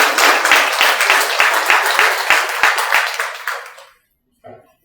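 Audience at a lecture on concubinage breaking into loud applause, dense clapping for about four seconds that fades out, followed by brief silence and a short bit of speech.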